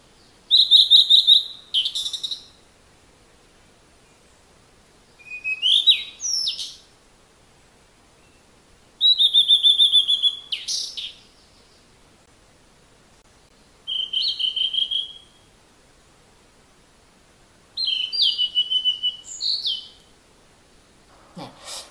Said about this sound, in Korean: 거기에 새소리까지